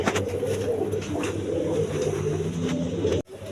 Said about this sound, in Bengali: দেখেন কোয়ালিটি সম্পন্ন কবুতর